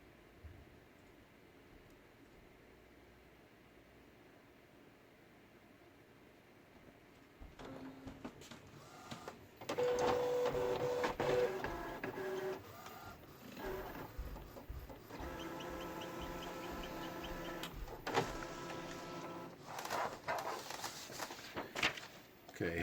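An inkjet printer runs a nozzle check test print, its mechanical whirring and clicking rising suddenly and then continuing in bursts with rhythmic carriage movements. Nearby rustling and handling noise are audible, and no one speaks over it.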